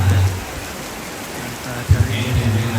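Steady rain falls outdoors at a wedding reception in Malimbong Rembon, a broad, even hiss with a louder patter near the start, while voices talk briefly underneath.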